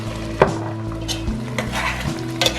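Oxtail stew being stirred in a pot, a few scraping clinks of the spoon against the metal rim over a steady low simmer, close and fairly loud with no talk.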